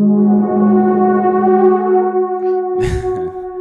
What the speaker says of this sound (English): That's the sound of the range parameter in the reverb being moved.